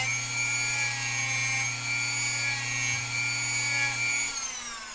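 Hand file working the sprue remnants off a plastic model kit part, steady scraping strokes under a constant low electrical hum, close and moderately quiet.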